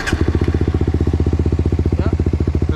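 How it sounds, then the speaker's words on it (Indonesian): Suzuki GSX-R150 motorcycle engine idling after starting, a loud, close, steady rapid thumping pulse of even rhythm. "Mari kita nyalakan mesin."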